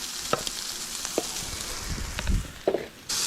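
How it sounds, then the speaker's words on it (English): Potatoes hit a hot pan and sizzle, with scattered clatter and stirring knocks over a soft frying hiss, ending in a sudden louder burst of sizzle. "dump our potatoes right here and let those start frying up"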